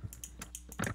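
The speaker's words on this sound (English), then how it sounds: "They might hear like my clicking" Quick, light clicks of a computer mouse during a Minecraft-style Build Battle session, about half a dozen soft taps in an irregular rhythm, close and faint.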